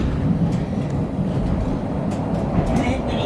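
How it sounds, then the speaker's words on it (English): A train on a Swiss railway in 1998 produces a continuous loud rumble and rattle heard from on board, with no clear voices. "Oh look, there's a train just ahead of us."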